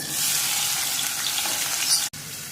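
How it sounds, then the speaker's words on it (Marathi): Cumin seeds and onion frying in hot oil, a loud, dense, close sizzle with stirring that cuts out abruptly near the end before resuming. "त्यामध्ये जिरं घालायची, कांदा घालायचा"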